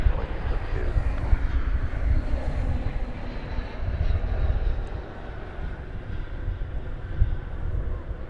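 An airliner in TWA heritage livery, flight 2372 bound for San Antonio, passes at DFW Airport with a continuous rumbling jet roar, low-end wind buffeting on the microphone and a steady, moderately loud level.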